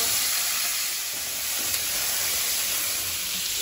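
Kohlrabi and potato frying in hot oil in a frying pan with nigella seeds, a loud continuous sizzle and steam hiss close up, with no voices.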